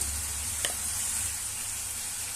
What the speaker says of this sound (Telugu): ఇందులో కొద్దిగంత అల్లం వెల్లుల్లి పేస్ట్ వేసుకోవాలి